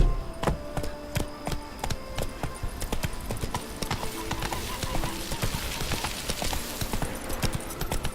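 In the modded video game The Witcher 3, a horse's hooves pound out a steady, rhythmic clip-clop gallop that sounds close and firm and keeps going throughout, with faint chatter in the background.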